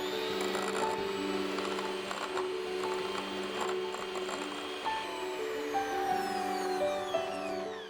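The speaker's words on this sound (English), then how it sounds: "We are going to mix that all up with our mixer" Electric mixer whirring steadily through keto chocolate mousse in a bowl, a sustained motor hum with shifting pitch and light scraping, close and fairly quiet, with no talking.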